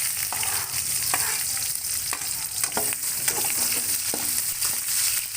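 Sliced onions sizzle in a pan while being stirred for a tori sabzi, with a constant frying hiss punctuated by sharp spatula scrapes and clicks; no one speaks.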